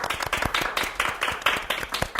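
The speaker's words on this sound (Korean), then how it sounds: "오늘의 주인공 정지돈 작가님과 오한기 작가님을 박수로 맞이하겠습니다" A small audience claps to welcome two novelists at a Korean book talk, with distinct, fairly sparse hand claps in an uneven rhythm, close and moderately loud.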